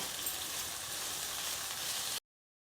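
Sliced okra sautés in a pan for a Tamil vendakkai poriyal, giving a steady, fairly close sizzle that runs evenly and then cuts off abruptly near the end.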